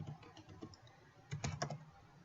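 Short bursts of keystrokes as a search is typed on a computer keyboard, a few soft clicks early and then a denser, louder cluster of taps near the end, close and quiet with no talk.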